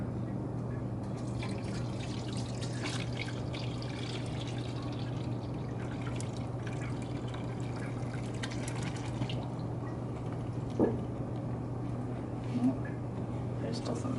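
Hot natural dye liquid poured through a cloth strainer, a steady trickling stream under a low constant hum, with a person talking over it.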